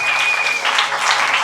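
Church congregation clapping together in praise of the Lord, a dense, steady burst of applause filling the room, loud and close with no voice on top.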